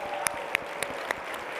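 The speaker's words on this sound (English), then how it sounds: "One more round of applause." Gala auction audience applauding at a colorectal cancer research fundraiser, a steady wash of clapping from a room of people with a few sharper claps standing out, heard alone without talk.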